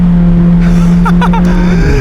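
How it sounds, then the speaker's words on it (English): A twin-turbo Ford car downshifts with a loud, steady engine drone, and a quick cluster of sharp exhaust pops and crackles bursts out in the middle. "it is a lot of fun hearing this car downshift with those pops and crackles"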